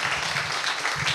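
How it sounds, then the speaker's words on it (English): Conference audience at a festival event breaks into applause, a brief dense wash of many hands clapping at once, fairly loud and continuous. "Big round of applause."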